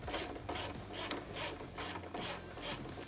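A 12-point 10mm socket tightens the front brake caliper bolts on a 2008-or-later Harley touring motorcycle, making a close, rhythmic series of rasping ratchet strokes about every half second.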